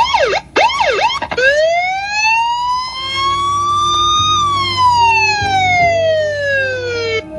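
Loud ambulance siren: a few quick yelping sweeps, then a long slow wail rising and falling, with engine rumble underneath.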